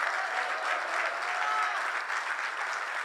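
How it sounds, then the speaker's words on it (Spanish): Church congregation gives a steady, enthusiastic round of applause during a sermon, a dense wash of clapping at even volume with faint voices underneath. "Denle el aplauso, Señor, bien fuerte, y grítele gloria a Dios."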